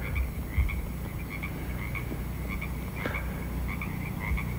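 Frogs croak in a dense, overlapping chorus at a pond in pitch darkness during gentle rain, repeated calls steady and moderately near over a constant background hiss, with no talking.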